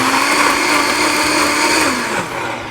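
A blender purees chilies with just enough water, a loud, steady whirring roar that holds for a couple of seconds and then eases slightly as the motor note drops.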